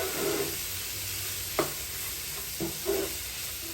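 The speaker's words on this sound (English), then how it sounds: "carrots, onions, and green kale leaves. mix together." Stirring carrots, green peas, onions and green kale leaves in a pan for mussel and egg fried rice, with a soft steady sizzle broken by a few distinct spoon scrapes and clacks.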